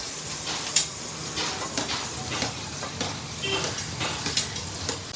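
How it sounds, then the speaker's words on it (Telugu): Chopped onions fry in hot oil in a pan for a Telugu chikkudukaya (broad bean) curry, giving a steady, close sizzle with a few sharper crackles and stirring scrapes throughout, and no voices. "ఇప్పుడు ప్యాన్లోని ఆనియన్స్ వేసుకుంటున్నాము"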